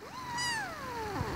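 A cat on a bed lets out a single long, rising-then-falling meow close to the listener, loud and clear with no talking over it.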